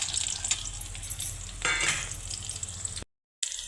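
Coconut slices, chillies and peanuts fry in oil in a pan, giving a steady close sizzle with stirring scrapes that cuts out briefly near the end.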